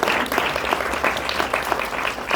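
Audience applause fills a room at a talk with the record label Ediciones Pentagrama at Mexico's Fonoteca Nacional, dense continuous clapping held at a steady, fairly loud level.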